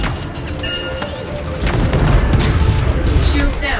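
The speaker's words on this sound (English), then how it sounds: "I think the explosion destabilized the foundry" A loud explosion detonates in the video game Anthem, building into a sustained, rumbling blast with crackling debris over a steady noisy background.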